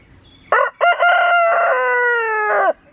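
An aggressive rooster with spurs crows close and loud, one full cock-a-doodle-doo that opens with short notes and ends in a long sustained, slightly falling call, with no talking.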